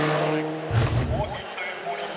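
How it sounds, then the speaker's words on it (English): A Mitsubishi Evo 1 rally car running a stroker engine and Evo 5 gear at a forest rallysprint roars past close by with a brief tyre-scrabbling burst, then fades into the distance. "A wolf in sheep's clothing best describes the Mitsubishi Evo 1 of Jeremy Beaton."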